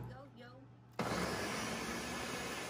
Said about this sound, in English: 1, 2, and put it in the blender.